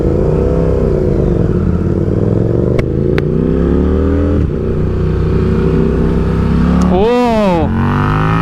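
A KTM RC8C race motorcycle drones loudly at speed, its engine note climbing in smooth harmonic sweeps, then surges into a sharp high-revving acceleration near the end, heard close and mostly alone.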